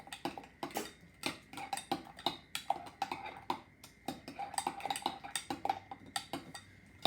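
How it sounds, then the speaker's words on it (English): A spoon stirring salt and pepper into mayonnaise in a bowl, giving a quick, rhythmic series of light clinks and scrapes, close and clear, with no talking. "I'm just gonna stir that around"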